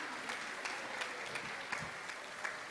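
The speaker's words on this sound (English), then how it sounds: "Can you please give a round of applause to them?" An audience at a Sunday feast claps in a steady wash of applause with a few sharper individual claps standing out, moderately faint and without speech.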